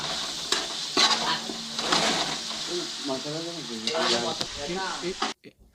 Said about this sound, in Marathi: सध्या फोडणी देण्याचं काम चालू आहे